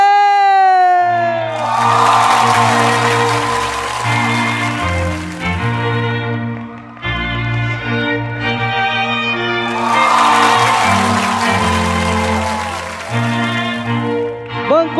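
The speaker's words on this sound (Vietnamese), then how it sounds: "bây giờ hãy dành một tràng pháo tay to khủng khiếp để cùng chào đón cô dâu và chú rể" Wedding guests cheering and applauding as the bride and groom arrive, with loud crowd whoops surging twice over sustained music playing in the hall.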